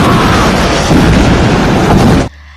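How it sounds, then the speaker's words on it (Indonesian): A car explodes in a film scene: loud, dense, sustained roaring rumble filling the soundtrack for over two seconds before cutting abruptly to near silence. "Ternyata mobil sebelah Vicky yang meledak."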